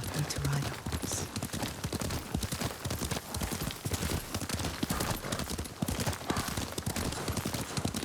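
Rapid hoofbeats of a galloping horse in the video game Ghost of Tsushima clatter continuously at close range, a busy rhythmic clip-clop with a brief whinny-like sound near the start.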